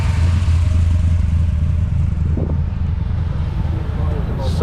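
A race car called Tuffy roars down the strip at a roll racing event at Sydney Motorsport Park, a loud continuous engine drone with rumbling low end and crowd-like background noise throughout.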